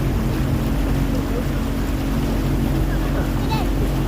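A steady motorboat engine drone runs continuously on a park boat ride in Siddipet, close and fairly loud, with wind buffeting the microphone.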